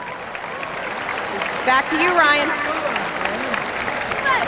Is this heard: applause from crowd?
yes